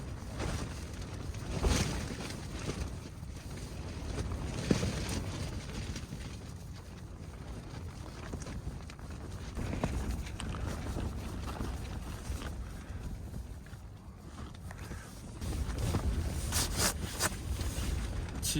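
A strong gale blows across a high plateau at a roadside camp in Shenzha County. Gusts rumble and buffet steadily, fairly faint and without letup, and no one speaks.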